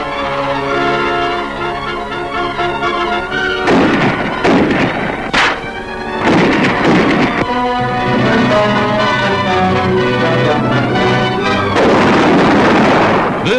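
155-millimeter artillery guns in 1943 South Pacific fighting against Japanese forces fire in heavy booming bursts around four, six and twelve seconds, set against a continuous loud orchestral music bed that runs throughout.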